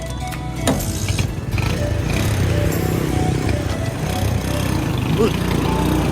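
Motorcycle engine running steadily on a ride around Marinduque, a continuous low rumble filling the whole stretch close by, with a short shout over it.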